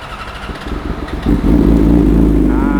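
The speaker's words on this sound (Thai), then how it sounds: "เดี๋ยวมาฟังเสียงเครื่องยนต์กันเลยครับ" A cold motorcycle engine with about 24,447 km cranks with some difficulty and catches, then settles into a loud, steady running rumble close by.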